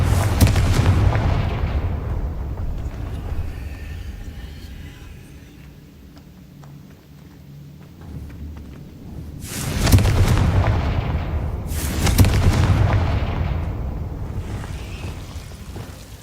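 Confringo blasting spell cast in the video game Hogwarts Legacy, booming explosions with a loud burst at the start and two more heavy blasts later, each decaying into a rumbling tail.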